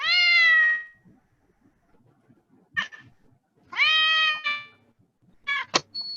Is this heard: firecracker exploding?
no